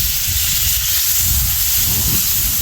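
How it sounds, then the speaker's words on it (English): Butter sizzles loudly and steadily in a hot 10-inch Lodge cast iron skillet, a dense continuous hiss close up with no talking over it. "I'm going to put a liberal amount of butter down in here"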